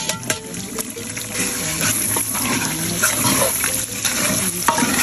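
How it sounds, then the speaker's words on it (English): Ghanaian tomato stew cooks over a firewood fire as it is stirred, a close wet bubbling and scraping with a sizzling hiss and occasional clacks against the pot. "at this point we'll be stirring for some time now"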